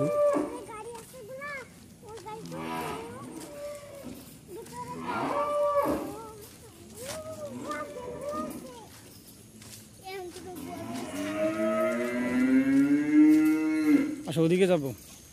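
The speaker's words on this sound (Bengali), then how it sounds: "অনেক গরু" Cattle at a dairy farm in Savar lowing repeatedly, several long moos rising and falling close by, the loudest drawn-out call near the end, with people and children talking in between.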